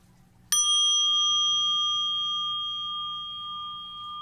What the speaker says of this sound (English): Mindfulness bell.